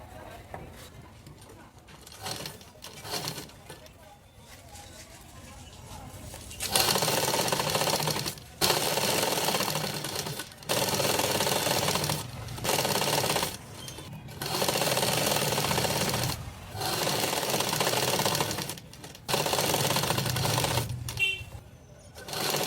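A sewing machine stitches a blouse border in rapid whirring runs, stopping and restarting several times, close and loud, with quieter handling sounds between bursts.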